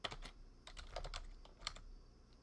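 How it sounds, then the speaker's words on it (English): Fast typing on a computer keyboard, a quick run of soft, close key clicks in uneven bursts, quiet and alone. "I'm typing too fast to use them."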